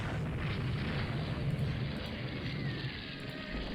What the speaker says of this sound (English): The torpedo hit.